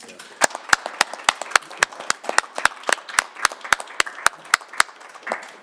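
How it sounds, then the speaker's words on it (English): Clapping at a city council meeting for volunteers, a small group producing distinct, sharp individual claps in a loose, fairly regular rhythm, close and clear over a quiet room. "I think at this time we should give them a round of applause"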